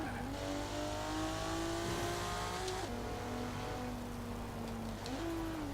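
Mitsubishi engine in Forza Horizon 4 holds a steady, buzzy drone at moderate revs, dipping and climbing as gears shift, with faint tire noise underneath and no voices.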